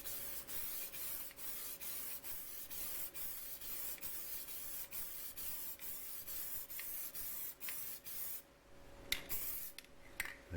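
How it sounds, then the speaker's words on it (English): A spray can painting a license plate in a row of short, quiet hissing bursts with a steady rhythm, ending in a few more uneven sprays. "And spray your tag."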